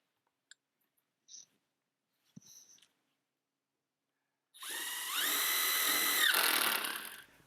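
Power drill driving a couple of screws into wooden side molding on a shop wall, a few faint clicks and taps first, then a loud close whine that steps up in pitch and holds for about three seconds.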